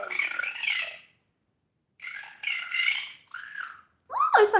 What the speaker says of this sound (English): Birds are going mad.